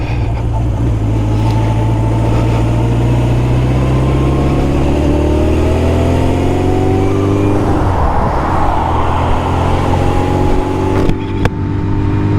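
A Honda CB750K classic motorcycle engine drones loudly while riding, climbing in pitch through the gears with a shift partway, a constant close roar and no talking.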